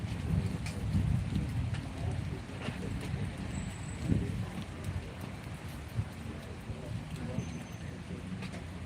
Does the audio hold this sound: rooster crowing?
no